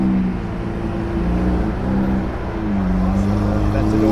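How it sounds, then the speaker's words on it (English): A Lamborghini Aventador SV cruises past at an outdoor car cruise night, its deep, steady engine rumble loud and close with slight swells in pitch, amid background crowd chatter. "Cars coming through, the Lamborghini."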